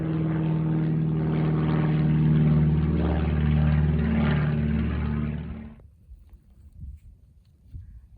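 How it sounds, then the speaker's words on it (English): An airplane flies low over a farm, a loud and steady engine drone that stops abruptly partway through, leaving only faint, scattered sounds afterward. "this airplane is really, really loud flying overhead right now"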